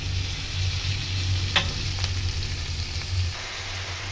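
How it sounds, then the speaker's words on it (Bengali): Chopped spinach fries with boiled potatoes in a pan, giving a steady close sizzle with a few brief scrapes of stirring spread through it. "এর মধ্যে আমি কেটে রাখা পালং শাকগুলো দিয়ে দেবো"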